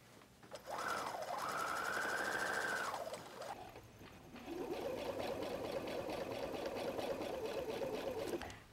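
Sewing machine stitching through thick layers of a messenger bag, a steady whirring motor run that pauses briefly, then resumes at a lower, strained pitch.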